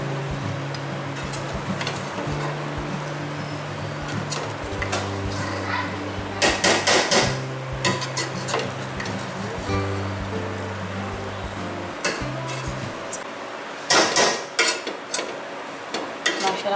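A spoon scrapes and clanks against a pot while Muradabadi pulao rice is mixed after steaming, giving sharp irregular metallic knocks in clusters over a soft background hum, with no talking.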